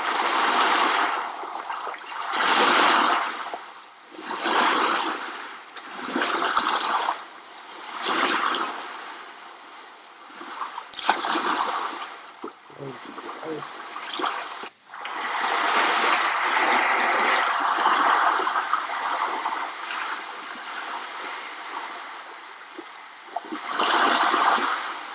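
Water sound effect of splashing and rushing waves, arriving in repeated loud surges a few seconds apart, then a long continuous rush near the end.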